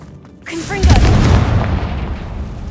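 A Confringo blasting curse goes off in Hogwarts Legacy: a short rising magical whoosh, then a deep, loud booming blast that rumbles on and slowly fades.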